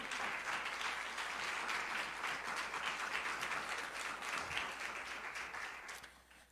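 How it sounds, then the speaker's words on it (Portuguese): A church congregation applauds in a dense, continuous roar of many hands clapping, sustained and fairly close before easing off at the end. "Aplauda ao Senhor em nome de Jesus."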